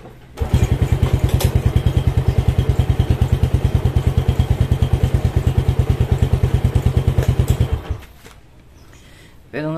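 A modified Yamaha Jupiter motorcycle engine runs loud and close, its rapid, even exhaust pulses thumping steadily for about eight seconds before cutting off abruptly.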